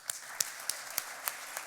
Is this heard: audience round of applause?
yes